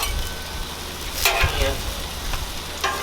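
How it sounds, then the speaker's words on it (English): Tortillas for cilantro lime shrimp tacos sizzle steadily in a hot pan, with a few brief scraping, shuffling bursts as they are flipped. "Flip the tortillas."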